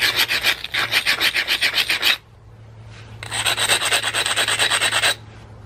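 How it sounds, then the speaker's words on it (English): A dacite platform edge is abraded during stone knapping, heard as two loud bursts of quick rhythmic rasping strokes separated by a brief quiet gap. "I like to actually abrade at an angle on my platform rather than just grinding the edge down."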